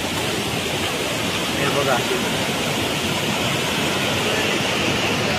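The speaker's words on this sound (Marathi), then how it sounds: "आपण धबधब्यावर पोहोचलेलो आहोत." A waterfall at Tandulwadi fort roars as a steady, broad rush of falling water, close and loud, while a person speaks briefly over it.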